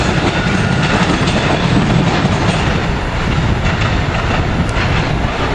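A commuter train of multiple cars led by a cab car passes a railroad tower, loud and close with continuous rumble and rhythmic clickety-clack of wheels over rail joints, steady throughout.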